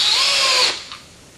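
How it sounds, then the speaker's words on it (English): A power screwdriver drives a screw up into a column header during a basic column installation, whining steadily at close range for about two-thirds of a second before cutting off, followed by a faint brief knock. "I'm going to go ahead and screw it up into place."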